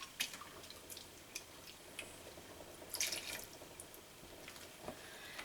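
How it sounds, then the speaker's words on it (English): Hemp milk being stirred for soap making, with faint, quiet liquid swishes and small drip-like splashes in a steady, low background, up close and without talk. "I'm going to stir up this hemp milk."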